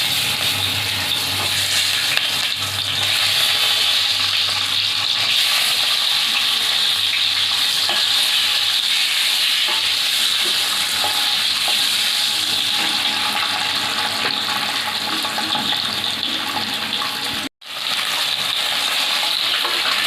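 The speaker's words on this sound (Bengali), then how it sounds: "ডিমটা তেলে দিয়ে দিলাম" Duck eggs frying in oil with salt and turmeric in a wok give a loud, steady, close sizzle that crackles continuously, broken by one brief cut near the end, with no talking.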